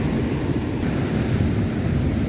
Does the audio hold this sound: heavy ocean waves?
yes